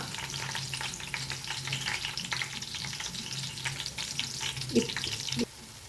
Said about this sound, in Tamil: இஞ்சி பூண்டு நல்லா ஃப்ரை ஆகணும்.